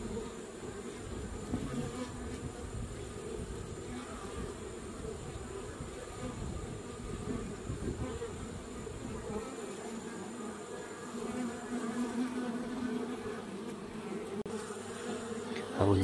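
Honeybees buzz steadily at the entrance of a hive while the workers drive out drones, a dense close insect drone that holds for the whole stretch with no voices.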